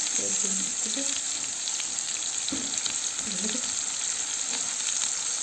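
Butter sizzling and frying in a pan while homemade meat iskender is cooked, a steady bright hiss with faint scraping underneath, close by and continuous, no talking.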